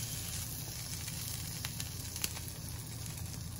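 Burger bun toasting in a frying pan for homemade cheeseburgers, giving a steady soft sizzle with a few faint crackles and pops throughout.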